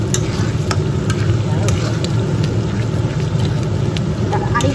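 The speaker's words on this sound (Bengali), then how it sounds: "আর একটুখানি মশলাটা কষে দাও" Spices for a mutton curry being stirred and fried in hot oil in a pan, a steady dense sizzle with scraping stir strokes running throughout, close and fairly loud, with no talk.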